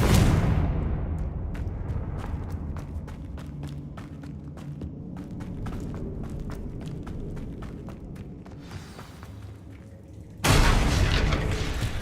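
Confringo blasting curse explosions in the Hogwarts Legacy video game: a loud booming burst at the start and another heavy blast near the end, with sharp clicks and thuds scattered between them.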